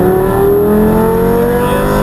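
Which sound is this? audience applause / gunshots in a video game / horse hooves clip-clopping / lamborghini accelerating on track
lamborghini accelerating on track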